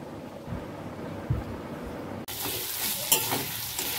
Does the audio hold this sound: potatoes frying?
yes